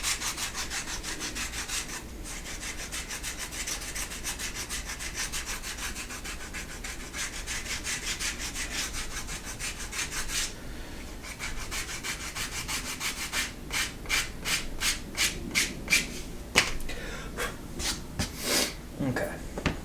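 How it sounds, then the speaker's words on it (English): Sanding the edge of a leather vertical wallet to square it up, a steady close rubbing scrape that runs continuously, then breaks into short rhythmic strokes toward the end. "we'll first check out if you need to sand this down to square it up a little bit"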